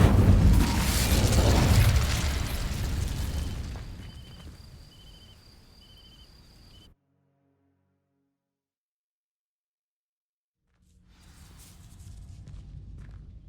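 Incendio fire spell cast in Hogwarts Legacy, a loud whooshing burst of flame that roars and slowly fades over several seconds, then silence before faint game ambience returns.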